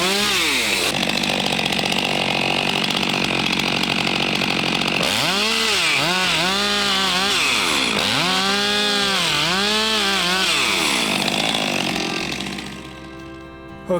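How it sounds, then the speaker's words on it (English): A chainsaw roars continuously up close, freehand milling wood, its pitch repeatedly dipping and rising as it bogs into the wood and recovers, before easing down at the end. "so that's my first freehand chainsaw milling experience"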